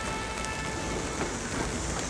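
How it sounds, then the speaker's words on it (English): Steady outdoor rain hisses in a dense, even wash of falling drops during an autumn walk, with faint traffic noise blended into the background. "Enjoy the rain sounds."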